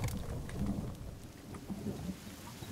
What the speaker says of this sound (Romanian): A început să plouă, așa că voi mânca.